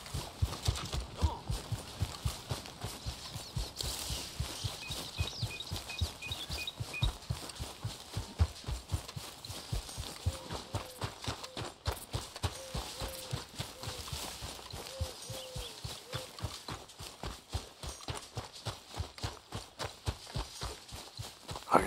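Steady clip-clop of horse hooves walking at an even pace in the video game Red Dead Redemption 2, close and rhythmic, with faint voices and light background sounds.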